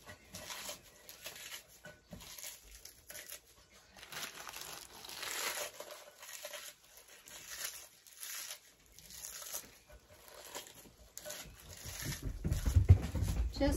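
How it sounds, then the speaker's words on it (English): Lettuce torn up by hand for a tossed salad, producing faint, close crinkling and ripping of leaves in irregular bursts, with quiet pauses between handfuls and no talking. "And now I'm just going to tear up some of this lettuce."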